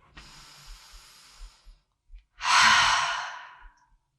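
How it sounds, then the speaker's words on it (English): A deep breath drawn in and let out during a yoga-style foot exercise session: a softer inhale followed by a louder, longer hissing exhale, close and alone with no talk. "Take a deep breath in and out and feel."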